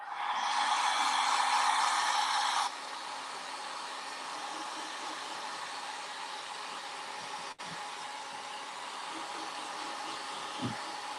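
A handheld heat gun blows steadily to heat-set inks, a loud, even whooshing hiss for a few seconds that then drops to a quieter continuous blowing roar that runs to the end.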